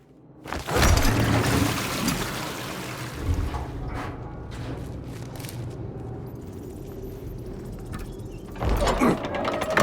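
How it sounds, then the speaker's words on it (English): A heavy stone mechanism grinds as a shield shifts on a giant statue in the Indiana Jones and the Great Circle video game, a rumbling slide with water-like wash, rising again near the end. "The shield on the statue moved."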